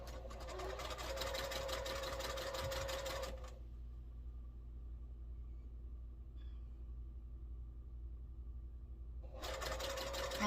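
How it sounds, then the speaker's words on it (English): Sewing machine stitching quilt block pieces for an air castle block, a fast steady whirring run for a few seconds, a quiet pause, then stitching resumes at the end. "let me sew another one and then I'll open it up and show you"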